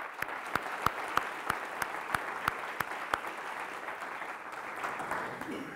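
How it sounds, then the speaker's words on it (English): An audience at a public sustainability debate claps in a short run of crisp, evenly spaced claps that thin out toward the end. "So I'm asking you for a round of applause."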